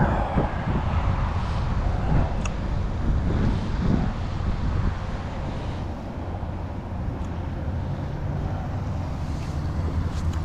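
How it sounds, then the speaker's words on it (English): Strong wind buffeting the microphone on a boat while catfishing, a loud low rumbling gusty roar with faint water slapping beneath, steady throughout with slight swells, and no speech. "Best I can do with it being as windy as it is."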